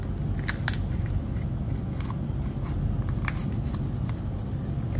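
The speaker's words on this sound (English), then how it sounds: "Now what we're gonna do is we're just gonna fold in these parts to make the bottom" Newspaper being folded and creased by hand to form the bottom of a seed pot, with crisp crinkles and rustling bursts scattered over a steady low background, close and fairly quiet, no talking.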